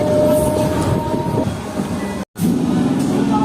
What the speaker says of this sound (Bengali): ফাইনালি বন্ধুগণ আমাদের ট্রেন ছেড়ে দিল আজিমগঞ্জ সিটি